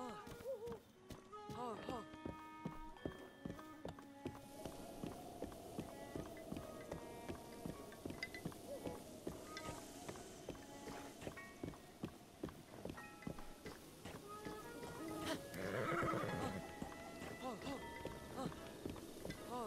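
A horse in the video game The Legend of Zelda: Breath of the Wild gives a brief mid-clip neigh as its hooves clop in a rhythmic run, set against game music and a talking voice throughout.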